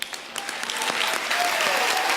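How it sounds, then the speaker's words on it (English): An audience breaks into strong, sustained applause after a speech, the clapping building and holding loud and dense throughout. "Let's have another round of applause for Lisa Bloom."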